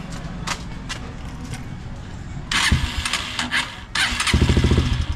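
A motorcycle engine with a noisy cylinder head in need of a tune-up idles steadily, then bursts into louder, rough revving twice, close by, with a noisy, rattling running sound.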